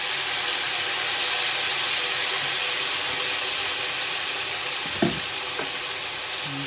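Soy sauce hitting a hot pan for a budget home-cooked pak choy stir-fry with meat, giving a steady, close sizzle and hiss, with a brief louder splash of sound around the fifth second.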